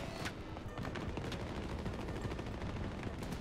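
Sentry turret fire in the shooter Battlefield 2042 sounds as rapid, rattling automatic bursts amid a busy battlefield, fairly faint and continuous, with scattered distant booms.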